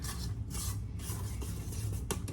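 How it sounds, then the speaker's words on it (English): Soft rubbing scrapes of a spatula around a mixing bowl of banana muffin batter, several short strokes in a quick uneven rhythm, close and quiet. "Scrape down the bowl a little bit again."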